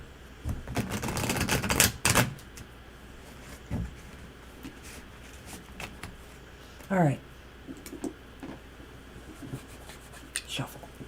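A tarot deck is shuffled in quick riffling bursts, a dense flurry of card flicks early on followed by scattered softer taps and slides, with a brief spoken remark.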